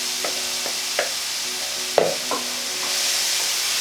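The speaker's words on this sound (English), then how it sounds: "as you can hear, that's sizzling away" Jackfruit cooking in a hot pan with liquid fajita seasoning gives a steady, faint sizzle, broken by a few stirring scrapes and clacks. No one speaks.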